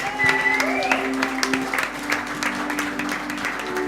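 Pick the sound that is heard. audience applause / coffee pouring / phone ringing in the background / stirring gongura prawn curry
audience applause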